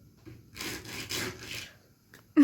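A wooden object is rubbed back and forth in a few rasping strokes at close range, followed by a short pause and a sharper knock at the end.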